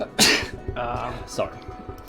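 One sharp sneeze bursts out during voice chat over a multiplayer war strategy game, followed by a quick spoken apology.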